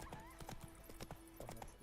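Roach the horse trots in The Witcher 3, hooves clip-clopping in a quick uneven rhythm with a short whinny, close and fairly quiet.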